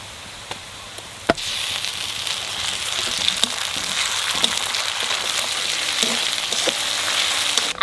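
Onions for a jackfruit curry fry in a pan, a steady close sizzle after a few sharp utensil knocks, with scattered stirring clicks throughout and no voices.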